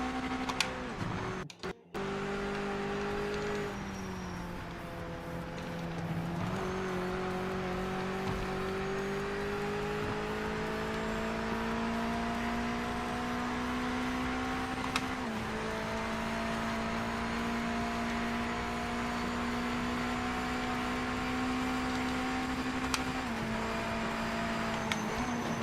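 Simulated roadster race car engine from the Project Motor Racing game, a steady high-strung drone with gradual pitch rises through gear changes, loud and continuous throughout with no talk.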